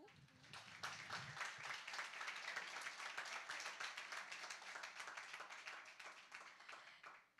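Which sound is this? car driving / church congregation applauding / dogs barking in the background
church congregation applauding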